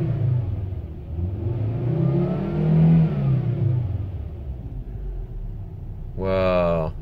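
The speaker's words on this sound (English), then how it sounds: "Let's add in some engine RPM with the timing advance." A car engine revs up and down in smooth, sustained swells while an OBD scanner is demonstrated, loud and close throughout, with a voice briefly heard at the end.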